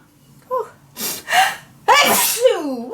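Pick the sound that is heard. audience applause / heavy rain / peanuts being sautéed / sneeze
sneeze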